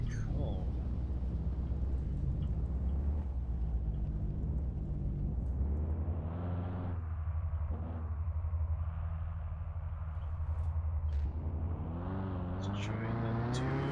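A car driven in the video game Mon Bazou, a continuous loud engine drone rising and falling in pitch as it accelerates and shifts, running throughout with someone talking over it.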